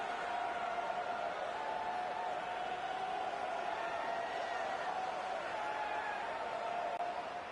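A stadium crowd in College Football 26 keeps up a steady, distant roar of cheering and murmur at low volume, continuous and even throughout.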